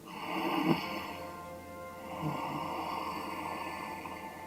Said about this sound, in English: You could also do ujjayi breathing, closing down the throat, so it sounds a little bit like this.